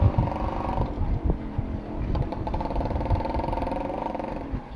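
A ported Suzuki Shogun (Shaolin) five-speed motorcycle exhaust runs steadily up close, a rough, burbling two-stroke note with small rises in revs and no talk.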